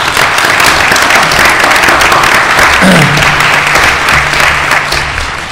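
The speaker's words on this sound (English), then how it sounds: "let's give Stuart a round of applause" A loud, continuous round of applause from a lecture audience for a podcaster fills the whole stretch; a brief tonal voice-like sound surfaces midway beneath the clapping.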